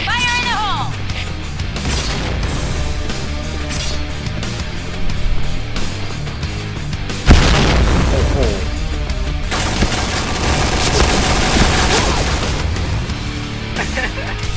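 Dense video-game battle audio with rapid gunfire, booming grenade blasts and a heavy grenade explosion midway, layered over continuous background music and effects.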